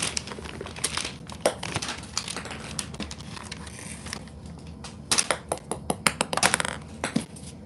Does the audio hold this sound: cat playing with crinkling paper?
yes